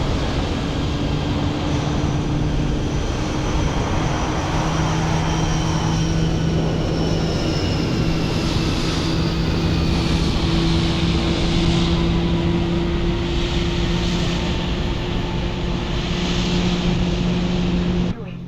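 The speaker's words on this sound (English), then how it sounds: "Hopefully we can hear the spool up of the engine" An Airbus A320neo engine spools up at the airport in Microsoft Flight Simulator, a continuous loud whine with slowly rising tones over a steady roar, unbroken for the whole stretch.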